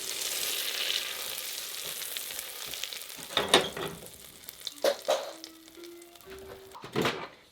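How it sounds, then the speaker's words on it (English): Four tablespoons of butter browning in a pan on low heat, a soft steady sizzle and crackle running throughout with a few louder clinks and stirring scrapes, no voices. "I have 4 tablespoons of butter here. I'm going to brown this on low so it doesn't burn."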